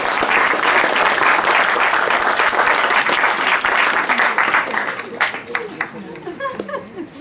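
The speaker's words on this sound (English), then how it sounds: "I really want to ask you another applause" An audience at a Kings Day event in Vancouver applauds with dense, loud clapping that fades after about five seconds into scattered claps. A voice speaks over the tail.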